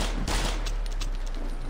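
In a horror video game, a gunshot cracks out loudly near the start, then fades into a rumbling tail with smaller scattered impacts.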